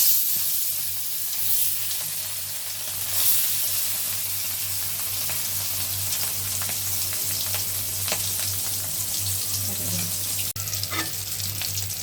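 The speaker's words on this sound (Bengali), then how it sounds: "মাছগুলো এখন ভেজে নেব সব।" Rui fish coated in salt and turmeric fry in hot oil in a wok, giving a loud, continuous close sizzle with a steady hum underneath and occasional faint stirring clicks.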